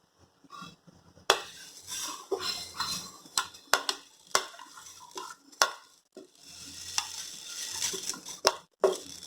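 Onion, garlic and ginger dry roasting in a pan for Chettinad chicken chukka, close sharp scrapes and taps of a spatula at irregular intervals over a faint crackle, with short near-silent gaps between bursts.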